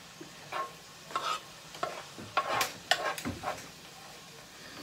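Meat frying in a pan while being stirred, with repeated scraping strokes over a low steady sizzle, close and moderately loud, no talking.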